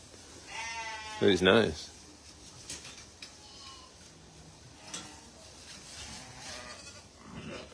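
A sheep bleats loudly in a wavering burst at a lambing farm, with livestock shuffling and a voice speaking briefly nearby, followed by quieter barn ambience.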